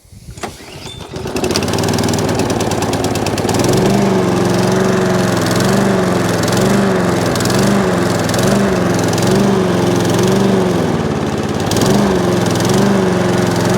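A Hayter Harrier 41 Auto Drive lawn mower cranks with a brief rattle, then catches and runs loud and close, its engine holding a steady drone with slight rhythmic surging and a small dip near the end.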